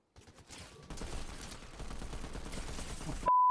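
Rapid gunfire in a Fortnite match, dense overlapping bursts building from a few early shots into sustained automatic fire that stays loud and close through the clip, ending on a brief steady tone.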